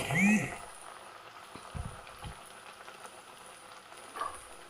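A semolina-and-coconut breakfast snack fries in oil, making a steady, moderate bubbling sizzle with a few soft knocks. A brief voice-like sound opens the clip.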